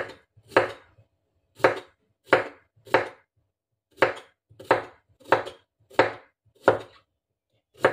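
Vegetables sliced with a knife on a cutting board, about a dozen distinct, crisp chopping strokes at a slightly uneven pace, close and isolated against quiet.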